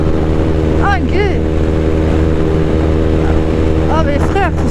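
A motorcycle ridden at speed gives a loud, steady engine drone mixed with rushing wind, broken by a few brief high squeaks.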